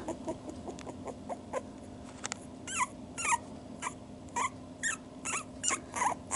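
Puppies whimpering up close, a series of short high squeaky whines that come more often toward the end, over a quiet background hum.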